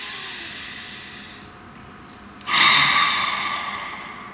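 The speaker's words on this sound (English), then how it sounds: "Please take a nice deep breath." A single deep breath is drawn in close to the microphone, starting as a sudden rushing inhale that holds steady for about two seconds over faint background hiss.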